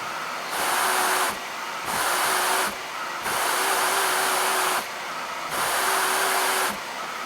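A dust extractor with a cyclone fitted with a pressure relief valve runs with a steady rushing hiss, and its pitch and loudness jump in four regular surges as a hand repeatedly covers and uncovers the hose end.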